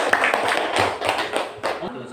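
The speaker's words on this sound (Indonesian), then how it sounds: "Coba beri aplaus dulu untuk kelompok 3" Classroom applause for a student group, with scattered clapping from several people mixed with voices talking over it.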